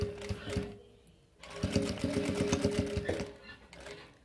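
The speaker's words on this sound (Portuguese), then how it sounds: "E aí, volto a costurar normalmente." Sewing machine stitching ruffles on fabric, a fast steady run of needle strokes close by, pausing briefly before resuming at speed.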